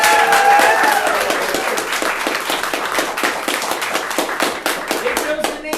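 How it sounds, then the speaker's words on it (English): An audience at an improv comedy show in Kentucky applauds steadily, a dense wash of clapping that stays loud and continuous throughout, with some crowd noise mixed in. "Round of applause!"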